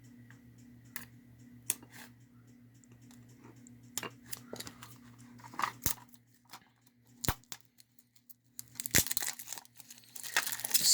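A sealed Lear Jet Stereo 8-track tape has its cellophane wrap picked and torn open, giving sparse crinkles and ticks that build into a busier burst of close tearing under a faint steady hum.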